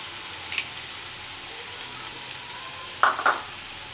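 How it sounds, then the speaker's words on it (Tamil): Ginger-garlic paste fries in hot oil over softened tomatoes for a mushroom gravy, giving a steady close sizzle with a short clatter of stirring near the end; no voices. "இஞ்சி பூண்டு பேஸ்ட் சேர்த்துக்கலாம்."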